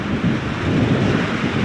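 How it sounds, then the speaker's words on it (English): Thunder rumbling during a long, severe thunderstorm with heavy rain and damaging winds, a continuous low roar with wind and rain noise, loud and close, no voices. "It's a really long, severe thunderstorm."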